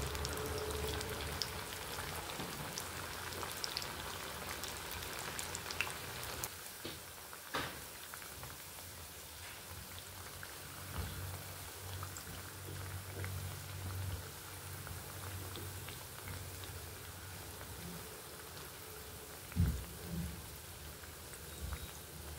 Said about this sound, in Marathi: खमंग अशा खुसखुशीत आपल्याला वड्या तळून घ्यायच्या।